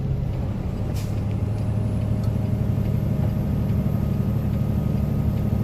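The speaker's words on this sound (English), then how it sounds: "Is just adjusting my Jake brakes up and down from the second and the third setting" A heavy truck descends a steep 9% downgrade with its engine brake (Jake brake) engaged, producing a loud, steady, throbbing low rumble that runs without a break.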